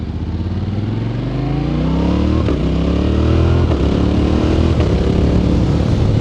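Engine of a 2025 Yamaha Tenere 700 Rally motorcycle on a dirt road, loud and steady, its pitch rising through repeated gear changes with brief dips at each shift, no talking.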